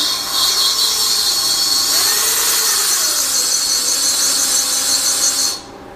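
An engine valve is spun against its seat with lapping compound, giving a continuous gritty rubbing and scraping that holds steady for several seconds before stopping abruptly, close and without speech.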